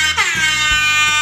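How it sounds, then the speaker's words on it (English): An air horn blast from a phone app, loud and close, a bright brassy blare that starts with a quick pitch swoop and then holds steady for about a second. "it's an air horn"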